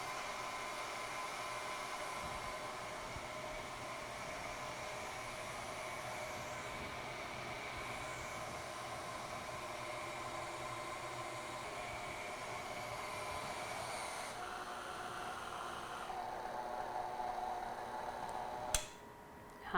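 A stand mixer with a paddle attachment running at medium speed through American buttercream, giving a steady motor whir and drone that holds for nearly twenty seconds before a sharp clack at the end.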